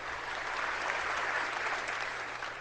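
Steady applause from a rally crowd in Hamilton, dense and sustained throughout at an even level with no voices rising above it.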